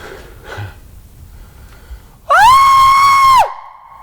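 A man imitates a Bigfoot hoot call with a single loud, drawn-out vocal whoop that rises, holds and drops off. It follows quieter breathing and background noise.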